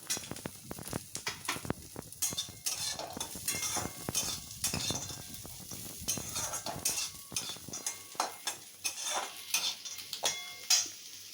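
Poha pulao with fried peanuts being stirred in a pan, a steady run of scraping spoon strokes and clinks over a soft sizzle, close and moderately loud, no talk.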